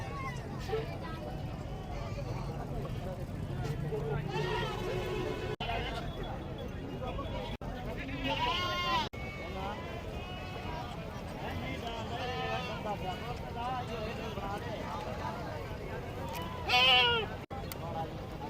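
Goats bleat now and then at a busy livestock market near DG Khan, Punjab, under constant chatter and haggling among buyers and sellers, with crowd babble filling the background and one louder bleat near the end.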